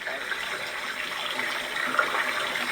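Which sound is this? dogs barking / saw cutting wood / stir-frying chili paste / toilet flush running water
toilet flush running water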